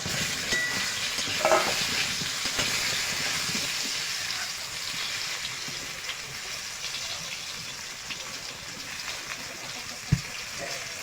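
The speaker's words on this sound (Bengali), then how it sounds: "তেলটা গরম হয়ে গেছে, এবার পটলগুলো ভেজে নেব।" Slices of pointed gourd (potol) fry in hot oil with a constant low crackling sizzle, a few faint knocks and one sharp clack near the end, heard close with no talking.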